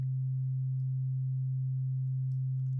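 Synthesized cinematic drone pitched down twelve semitones, a steady, low, unbroken hum held at an even, fairly quiet level throughout, with no voices.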